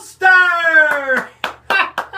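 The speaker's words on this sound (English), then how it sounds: "Let's have a big round of applause." At a comic stage act, a sustained pitched tone gives way to a handful of sharp, separate hand claps, sparse and irregular rather than a full crowd ovation.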